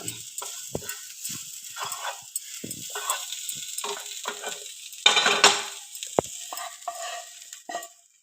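Okra sautés in a pan with a soft, continuous sizzle, punctuated by stirring scrapes and clinks, fairly quiet and close with a louder burst partway through.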